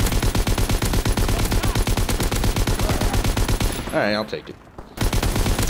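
Rapid, loud gunfire from a gun in Call of Duty WWII, with dense, continuous bursts that break off briefly near the end before resuming, while someone talks over the shooting.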